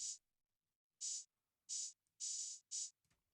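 Several open hi-hats from a production hiss out one after another, each a bright, sustained sizzle cut off short, with brief silences between them.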